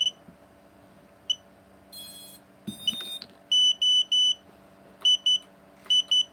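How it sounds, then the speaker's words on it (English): A mini quadcopter's electronic beeper sounds during a bench test, a few scattered chirps followed by a run of sharp, loud, evenly repeated high-pitched beeps in pairs and groups, with no one talking. "Okay, so the beeper's working normal."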